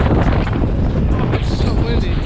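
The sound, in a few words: strong wind blowing into the microphone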